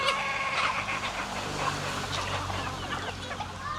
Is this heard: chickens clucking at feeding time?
yes